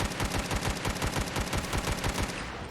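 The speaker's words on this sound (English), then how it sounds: "And for the most part, it's just a minigun." A minigun firing in Fallout 4 with a heavy weapon mod: a loud, continuous, rapid rattle of shots in a steady fast rhythm with no pause and no voices.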